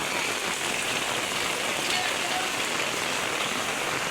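Steady, dense rain pattering on a surface, continuous and fairly loud throughout with no pauses.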